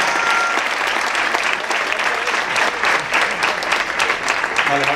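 Steady applause fills a lecture hall on adapted sport as a crowd claps together, a continuous, fairly loud patter of many hands with faint voices mixed underneath.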